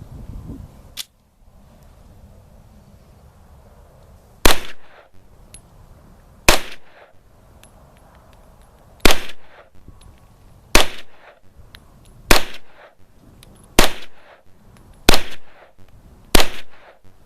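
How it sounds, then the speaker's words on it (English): A Chinese Type 54 Tokarev pistol firing, eight sharp, loud single shots spaced about one to two seconds apart, each cracking and fading quickly outdoors, with no talking. "It's time for our second shoot with the Type 54. Let's skip anything fancy and just get right to shooting."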